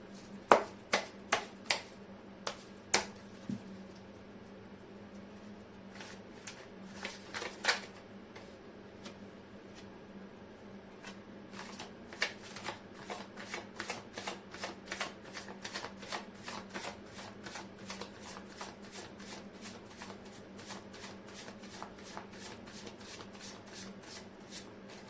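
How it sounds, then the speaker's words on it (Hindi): Tarot cards are shuffled by hand close up, first in a few distinct riffles, then a long run of quick, light, regular flicks and taps, fairly quiet, with no talking. "तो कर लेती हूँ कार्ड की शफलिंग।"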